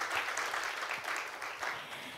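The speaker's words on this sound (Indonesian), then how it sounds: "Yang mau beri tepuk tangan dong buat Tuhan kita Yesus Kristus." Congregation clapping for Jesus Christ during an online Indonesian church service, a dense, steady patter of many hands at moderate distance with voices murmuring underneath.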